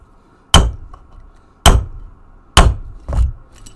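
Rivet heads on a LARP-safe shield clamp struck with a hammer: three loud, close metallic blows spaced about a second apart, the last followed quickly by a fourth softer hit, with no talk.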